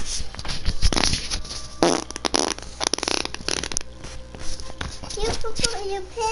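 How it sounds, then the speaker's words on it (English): A real fart, held right up to a microphone during a Brawlhalla gaming session, sounds as several loud, close, sputtering bursts among busy chatter and game noise, with people talking throughout. "You wanna hear a real fart?"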